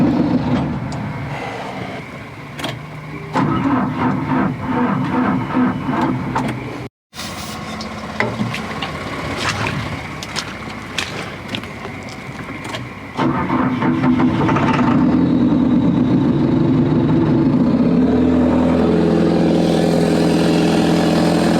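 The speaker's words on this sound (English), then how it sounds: "I just added a little bit more ether, start it again, see if it'll idle again." A broken excavator engine cranks and sputters after a dose of ether, then catches and settles into a loud, steady, close idle.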